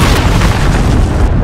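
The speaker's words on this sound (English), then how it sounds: "Enemy cruise missile incoming." A cruise missile goes off in a military video game as a loud, sustained booming roar, deep and thick, rumbling for the whole moment with no clear pause.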